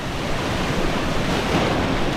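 Ocean surf breaks on a beach at Arecibo, Puerto Rico, a continuous broad roar of crashing waves mixed with wind buffeting the microphone, loud and steady throughout with no voices.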